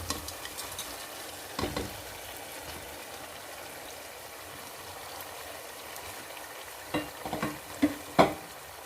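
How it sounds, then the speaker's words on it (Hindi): Pieces of fried fish go into a pan of hot masala, giving a soft continuous sizzle with a few sharp clinks and scrapes of utensils toward the end. "ये देखिए मैंने ये जो फ़िश फ्राई करके रखी हुई थी ये सारी ऐड कर देंगे इसके अंदर"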